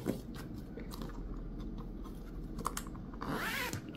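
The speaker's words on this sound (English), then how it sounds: "Just to give your zipper the space to slide." A zipper slides along a fabric zipper pouch during sewing, giving a close, continuous raspy ratcheting that grows slightly louder toward the end, with no talking.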